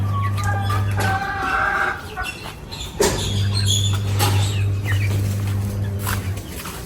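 Two egg-laying hens cluck in short, intermittent bursts, fairly close, over a steady low hum.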